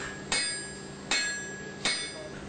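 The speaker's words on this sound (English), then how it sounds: "When the steel is hot enough, it's taken from the heat and beaten using a hammer" Three sharp hammer blows strike hot steel being forged into a knife, spaced evenly about three-quarters of a second apart, each ringing briefly before fading.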